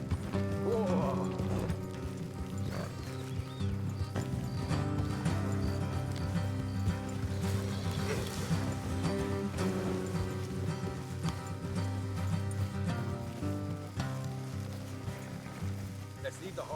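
Horses trot with a steady clip-clop of hooves in Red Dead Redemption II, with a brief whinny, all set against continuous game music and ambient sound.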